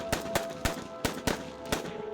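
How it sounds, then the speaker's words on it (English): Gunfire sound effect of about six sharp shots in an uneven sequence, fairly faint, each a short crack with a brief tail, and no voices. "The men opened fire on the creature"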